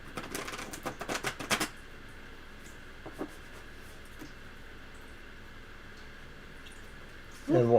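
Tarot cards are shuffled close to the microphone, a rapid riffling flutter in short bursts at the start, followed by a few scattered soft card sounds over quiet room tone.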